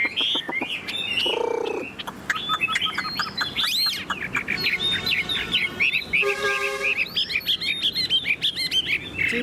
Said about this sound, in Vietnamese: Anh em nhìn con chim này hót hay không?